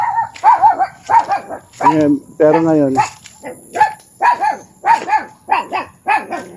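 A dog on an onion and corn farm barks repeatedly in a quick series of sharp barks while chasing people, fairly close, while people talk over and between the barks.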